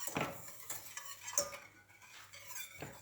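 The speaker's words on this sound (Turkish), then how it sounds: "Kuru malzemelerimizi güzelce karıştırıyoruz." Dry ingredients, flour and vanilla sugar, stirred in a bowl with a utensil, giving a few scraping, clinking strokes at irregular intervals, fairly close and quiet, with no talking.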